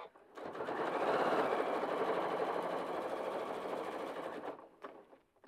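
A sewing machine sewing prairie points onto a quilt runs in one steady, close whirring burst of about four seconds, starting and stopping cleanly with no talk.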